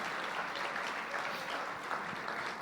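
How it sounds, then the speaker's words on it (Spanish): A church congregation applauds in praise during a service, a dense sustained round of clapping from many hands, loud and steady throughout. "Fuerte ese aplauso de alabanza al Señor"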